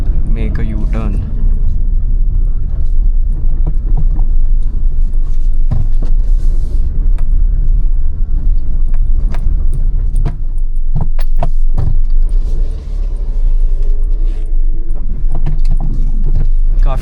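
A Maruti Alto K10 driving around the HPU campus in Shimla, with a steady engine and road rumble inside the cabin, plus rattling keys and creaks throughout.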